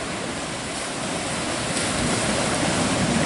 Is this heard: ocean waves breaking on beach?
yes